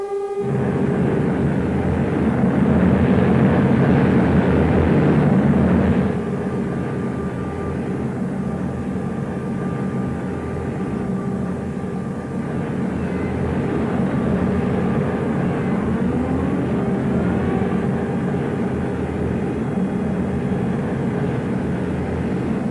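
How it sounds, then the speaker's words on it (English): Bomber aircraft approaching in a 1941 film: a steady, loud droning roar of engines that holds for over twenty seconds, swelling slightly early on, then easing back and continuing as a constant rumbling hum. "Here come the bombers now. You can probably hear them."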